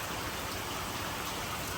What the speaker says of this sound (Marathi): पाऊस पाहू शकता किती येतोय